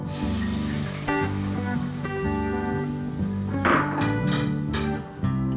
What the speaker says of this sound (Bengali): এরপরে যে দুধটা আমি ঘন করে রেখেছি সেটা এর মধ্যে দিয়ে দেবো